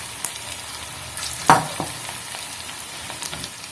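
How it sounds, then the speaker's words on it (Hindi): Chicken pieces dropped one by one into hot oil on medium heat for crispy fried chicken, giving a sharp sizzling burst followed by softer crackling and spitting, with occasional utensil taps. "इसे एक एक पीस को इसमें डाल करके फ्राई करेंगे।"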